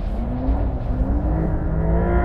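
Engine of a 2023 Porsche 911 Dakar (992) pulls steadily with a rising drone and rumbling tone heard from inside the car under load, continuous and fairly loud with no talk.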